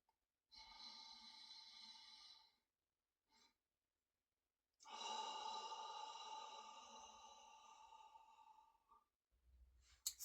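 Back breathing exercise with two slow, close breaths, a breathy inhale followed by a longer, sighing exhale, heard alone and quiet.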